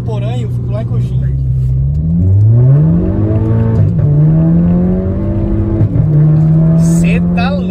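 A tuned Audi A3 1.8 turbo at stage 2 accelerates hard, its engine note climbing steadily through several gear changes, loud and close from inside the car as people talk over it.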